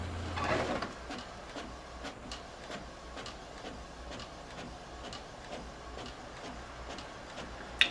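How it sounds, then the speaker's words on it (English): A printer warms up and begins printing, with a brief whirring burst at the start followed by a steady, faint series of regular mechanical ticks and clicks. "it's already starting to print, but it's doing its usual printer warm-up"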